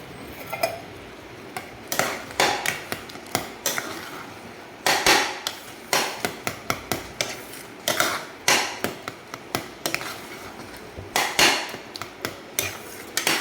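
Cashews roast in a pan while a spoon strikes and scrapes the metal in quick repeated clacks, grouped into rhythmic bursts with short pauses, close and fairly loud.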